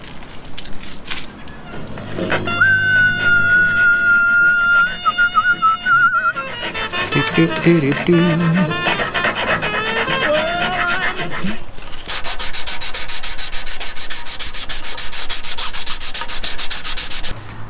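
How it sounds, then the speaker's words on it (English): Steady scraping and rubbing of a file and sandpaper against a metal bullbar, continuous and close, with rasping strokes that change in tone partway through. "going lightly with the file, taking any sharp edges off, any nicks that are in it"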